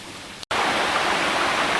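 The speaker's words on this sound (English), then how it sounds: "we're going to call it the waterfall before the Twin Falls" Steady broadband rush of a small waterfall below Twin Falls in the North Carolina mountains, continuous and close, with a brief dropout near the start and no voices.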